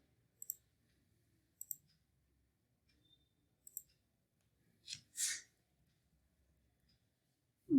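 A computer mouse clicks while working in an Excel chart, giving a few sharp, isolated clicks spaced a second or two apart, close and quiet in an otherwise silent room.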